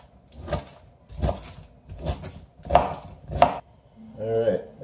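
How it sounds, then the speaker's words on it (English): Five sharp knife chops cut young jackfruit into chunks on a cutting board at an even pace, followed by a softer scraping clatter. "Basically just taking the core out of it and then chopping it up into little chunks."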